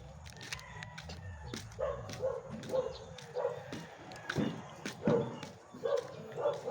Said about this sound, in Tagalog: Naririnig natin yung ingay ng mga aso.